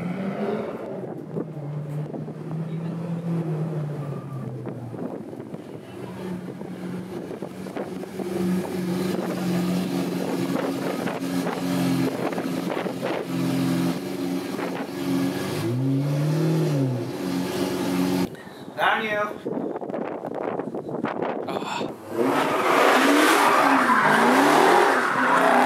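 Close by, a Lamborghini Aventador engine idles and revs in sweeping climbs and drops, then cuts into a harsher, brighter roar near the end, loud throughout and with no voices.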